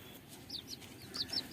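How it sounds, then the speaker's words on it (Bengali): Young chicks about fifteen days old on a small farm give a handful of quick, high chirps, several in a loose sequence, faint over low background noise. "এই হচ্ছে 15 দিনের ছোট ছোট মুরগির বাচ্চা"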